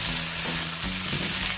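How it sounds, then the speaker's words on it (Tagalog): Blanched broccoli and carrots stir-fry in a hot pan, a dense, steady sizzle with stirring scrapes, close and loud, no talking. "ilalagay ko na yung ating broccoli. So, stir fry lang din natin siya."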